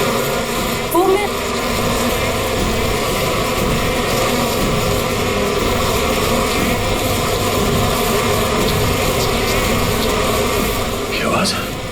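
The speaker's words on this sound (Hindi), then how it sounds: "किसी ने मधुमक्खी को छेड़ दिया क्या?" A swarm of disturbed bees drones loudly and continuously in a steady buzzing hum, with a voice speaking over it.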